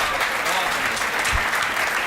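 An audience at a Hindi comedy poetry gathering breaks into loud, dense applause, a continuous roar of many hands close by that holds steady throughout, with faint crowd murmur underneath.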